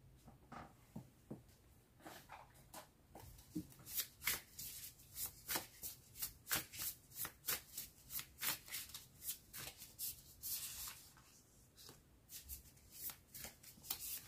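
Tarot cards are shuffled for a reading in rapid, rhythmic riffles and soft flicks, close and quiet, building into a steady run of shuffles with no talk.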